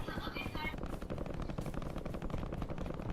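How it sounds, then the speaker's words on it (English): Rapid bursts of automatic gunfire crackle in quick succession, fairly faint, like distant shooting in a game. "Oh, that's just gunshots."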